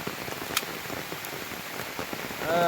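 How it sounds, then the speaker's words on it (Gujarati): Heavy rain pours down steadily outdoors, a dense, even hiss of drops hitting surfaces with scattered sharper splashes, swelling slightly louder toward the end. "અટાણે જો ધોધમાર વરસાદ પડી રહ્યો છે"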